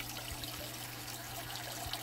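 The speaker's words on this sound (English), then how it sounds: "adds a little more splishing and splashing in there" Water drips and trickles steadily into a waterfall tank, a soft continuous splashing with faint irregular plinks, quiet and close with no talking.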